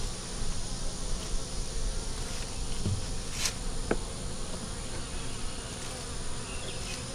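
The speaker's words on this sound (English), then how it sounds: "What I'm doing is messing up the bees coming in the front door." Honey bees buzz steadily at the front entrance of a hive, a dense, continuous drone with individual insects passing close to the microphone now and then.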